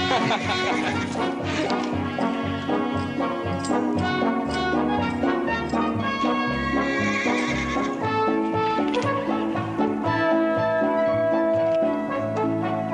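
A horse neighs and whinnies amid hoofbeats and busy Western-style background music, with the animal near and loud throughout, during a horse-breaking scene.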